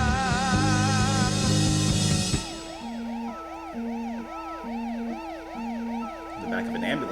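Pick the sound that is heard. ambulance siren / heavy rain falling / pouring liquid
ambulance siren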